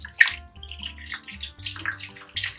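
Half a litre of water splashes into a pot of country chicken curry cooking over high flame, a short run of irregular pouring and splashing bursts, close and clear with no talking.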